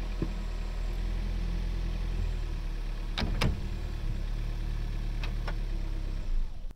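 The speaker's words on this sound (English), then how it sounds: "I get into the car and I back it up and take the slack out of the tow bar" Car engine idling steadily while being backed up slowly to take slack out of a tow bar hitched behind a motorhome, with a few faint mechanical clicks over the low hum.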